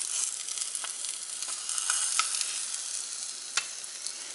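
A sunny side up egg fries in a pan with a steady, close hiss and crackle, sharp pops breaking through now and then; no one speaks.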